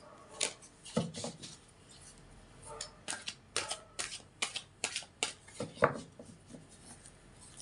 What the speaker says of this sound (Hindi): कार्ड वैसे मैं पहले भी शफल कर चुकी हूँ कई बार, लेकिन फिर कर रही हूँ 2-3 बार